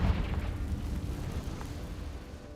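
Confringo fire spell explosion in the Hogwarts video game: a loud, deep booming blast at the start that rumbles and slowly decays into a sustained low roar, with no voices.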